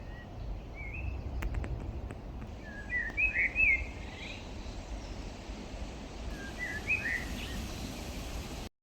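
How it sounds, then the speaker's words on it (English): Blackbirds sing from the trees at a forest edge, two fluting phrases a few seconds apart, fairly distant and soft over a low outdoor hush. "as I get closer to the trees at the edge of the forest, I start to hear blackbirds as well."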